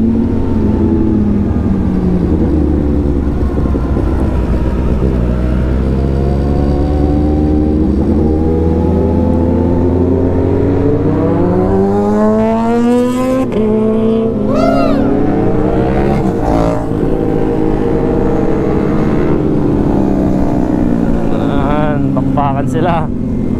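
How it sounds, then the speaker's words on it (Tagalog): A motorcycle engine runs at night during a group bike hangout, a loud steady drone with rising and falling revs, under a talking voice throughout. "Naiingay ng motor natin"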